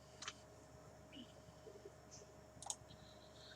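A few light computer mouse clicks on a Windows 10 PC, sharp and faint, spread sparsely across a quiet room with no talking.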